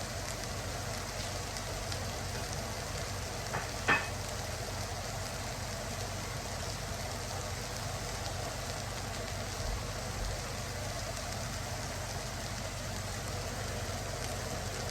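A steak sizzles on a smoking-hot griddle that has been switched off after an oil flame flare-up, giving a steady close hiss that runs the whole time with a brief crackle near the start.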